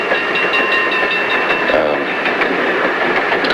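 A passenger train travelling a long distance, its steady rumble and faint rhythmic clatter running continuously and fairly loud throughout.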